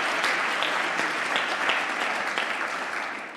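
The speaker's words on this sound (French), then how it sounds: "est-ce qu'on peut avoir quelques applaudissements, s'il vous plaît, pour nos 5 intervenants?" Full audience applause for five panel speakers at a French round-table presentation, a dense even wash of clapping that holds steady and eases slightly toward the end.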